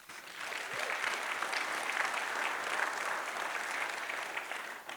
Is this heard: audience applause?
yes